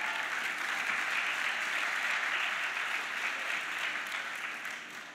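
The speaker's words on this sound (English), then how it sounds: "We can do a second round of applause." Graduation ceremony audience giving a second round of applause for an honorary doctorate recipient, a steady wash of many hands clapping, fairly distant and even, tapering slightly at the end.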